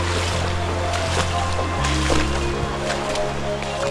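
Strong rushing river current crossed on foot, a loud continuous roar of churning water with steady low rumble and no pauses.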